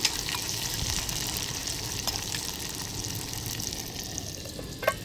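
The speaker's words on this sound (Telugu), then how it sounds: "ముందుగా కట్ చేసుకొని పెట్టుకున్న ఆనియన్ అలాగే పచ్చిమిర్చి యాడ్ చేసేసి ఇది కొంచెం కలర్ చేంజ్ అయ్యే వరకు ఫ్రై చేద్దాం" Chopped onion and green chilies frying in a pan for biryani, cooked outdoors: a faint, steady sizzle runs throughout, with occasional small pops and clinks, and no talk.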